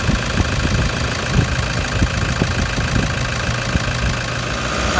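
A Toyota Hilux engine fitted with a high output alternator idles in a steady, even rumble with a faint rhythmic knock, close and continuous with no voices.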